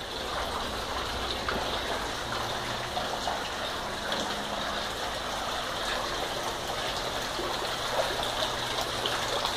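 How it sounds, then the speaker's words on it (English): Well water running steadily through a supply pipe inside a greenhouse, a continuous broadband rushing and trickling flow at a constant moderate level, close by with no voices. "This is the well water supply."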